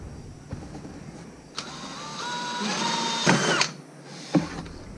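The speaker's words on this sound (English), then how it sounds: "I'm going to drill a hole beside the hole that's there" A hole saw on a power drill cutting a hole on a Honda Pioneer 500, the motor whining up in pitch and straining under load for a couple of seconds before stopping, close and moderately loud.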